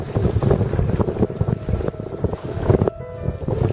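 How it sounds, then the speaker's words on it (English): A boat pitches through ocean waves between Cebu and Malapascua in strong wind, with loud wind buffeting the microphone, rushing water and hull thumps rising and falling, then a sudden drop to a quieter hum. "you can see with the size of the waves, the bow is definitely going up and down about 4 or 5 feet"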